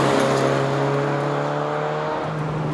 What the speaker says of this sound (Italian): Il suono del 4 cilindri a V è così particolare